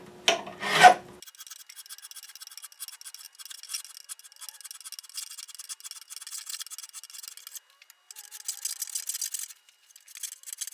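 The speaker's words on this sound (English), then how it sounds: "So we're now on to recrowning. Got my trusty Hosco crowning files." Hosco crowning files rasp steadily across guitar frets while recrowning, a close, continuous scraping with rhythmic strokes after a brief louder knock at the start.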